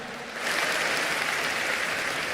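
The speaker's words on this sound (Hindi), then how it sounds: "जोरदार तालियां" An audience at a religious ceremony on Garbh Kalyanak day bursts into applause, with dense steady clapping that swells after a brief moment and holds evenly to the end.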